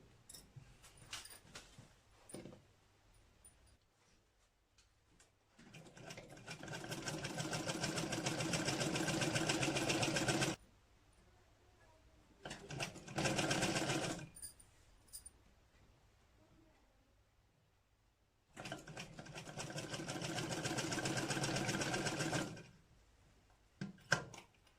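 Sewing machine stitching the shoulder seam of a baby frock: three long bursts of steady, fast whirring stitching separated by pauses with soft handling noises, close and loud.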